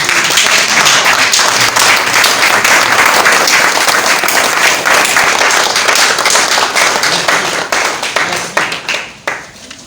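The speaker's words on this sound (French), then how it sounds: "à vous inviter tous à vous mettre debout pour que nous applaudissions pour féliciter" A standing audience at a book launch applauds loudly and continuously, dense overlapping claps filling nearly ten seconds before thinning and fading out in the final moments.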